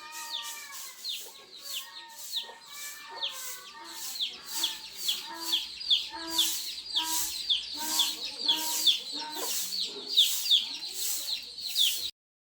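Chickens cluck and chirp busily close by as they are fed grain, a dense overlapping chorus of short repeated calls that continues steadily, with no talk.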